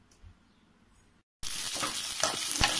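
Chopped onions and spices for a bitter gourd curry drop into plenty of hot oil after a short silence and sizzle loudly, with a few clicks as they are stirred in the pan.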